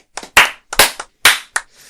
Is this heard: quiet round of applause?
yes